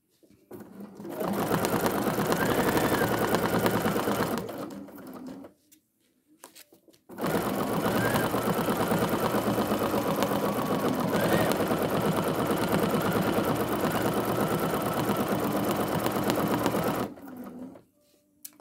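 A home sewing machine doing free-motion quilting and thread painting on an art quilt, a steady fast mechanical hum and needle clatter running close and loud in two long bursts with a short pause between.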